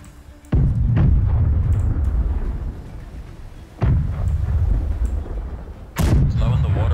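Ship cannons fire in the pirate naval game Blackwake, with three heavy booming blasts spaced a few seconds apart, each followed by a rumbling decay, close and loud.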